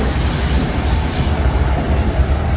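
An old train carriage rolls along the rails with a loud, continuous rumble and rattle heard from inside the car. Faint wheel squeal sits above the rumble throughout, and nobody speaks.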